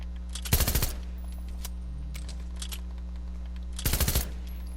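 The new machine pistol in Fortnite fires two short, rapid bursts a few seconds apart, sharp and close over a low steady hum, with quiet game sounds in between.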